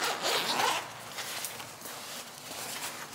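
The zipper on the access panel of a leather motorcycle vest is pulled, giving a clear zipping rasp near the start, then quieter rustling and handling.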